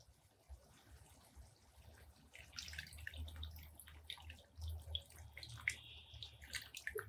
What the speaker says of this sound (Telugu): ఇప్పుడు చింతపండు నీళ్ళు పోయాలండి.